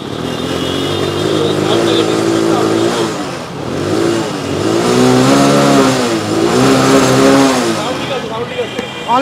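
A used motorcycle engine idles and revs nearby with a smooth mid-pitched hum that rises and falls in several swells, while people talk over it.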